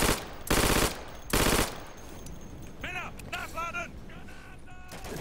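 Two loud, rapid bursts of automatic gunfire from a short-barreled weapon in the World War II shooter Day of Infamy, close and harsh, followed by quieter clatter and brief rising-and-falling tonal chirps.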